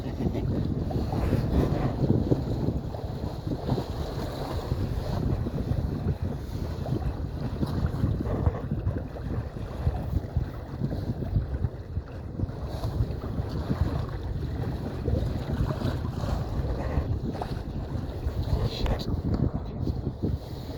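Wind gusting through a gap on a beach at a canoe sailing camp, a steady, loud rush of buffeting microphone wind noise that persists throughout, with faint water and rigging sounds beneath.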